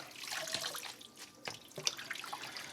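Running water in a kitchen sink splashes and trickles as bagged collard greens are washed by hand, with irregular close splashes and drips, fairly quiet, with no talking.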